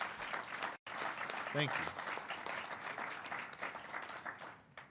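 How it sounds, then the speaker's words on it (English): Applause rises from an audience at a government press briefing on education funding, honoring legislators, a steady dense clapping that fills the room while a speaker talks over it. "Please give them a round of applause."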